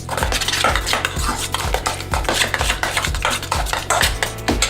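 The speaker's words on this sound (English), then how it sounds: "Just mix it." Cutlery clinks and scrapes against a bowl as tartar sauce of mayonnaise, mustard and sweet relish is stirred together, a quick steady rhythm of close, loud clatters with no talking.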